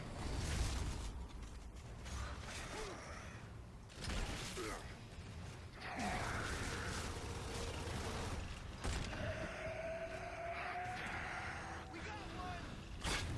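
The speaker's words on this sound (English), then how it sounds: "Let's use the crane to get the fuel to the conveyor belt." Crane and conveyor belt machinery in the video game Gears of War 3, with creaking, ratcheting mechanical clanks and a rising motor whine, heard under ongoing game noise and someone talking.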